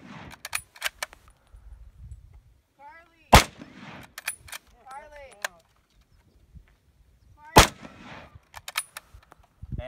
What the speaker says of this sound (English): here we are again shooting